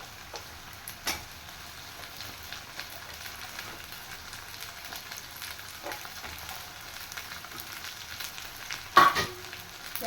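Washed okra fries in oil with onion, giving a faint, steady sizzle with soft stirring scrapes and a brief louder clatter near the end.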